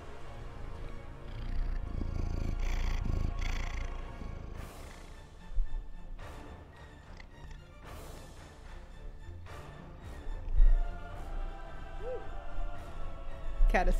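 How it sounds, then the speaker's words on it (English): A cat purrs close to a microphone in a steady low rumbling drone that rises and falls, while a person talks softly over it and there are occasional clicks and handling noises. "You got some purrs going on."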